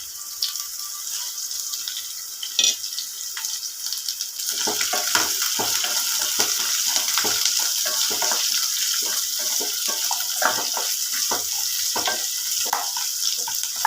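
Sliced onion, roasted gram, cumin, fennel, cinnamon, cloves, cardamom and bay leaf frying in a pan, a steady loud sizzle with dense crackling and spatter that builds after a few seconds.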